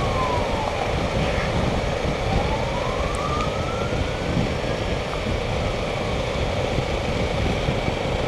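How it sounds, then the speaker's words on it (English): A fire engine siren wails from behind while riding across the Sydney Harbour Bridge at night, its rising and falling tone riding over a constant loud rumble of wind and traffic. "we've got a fire engine coming over behind me"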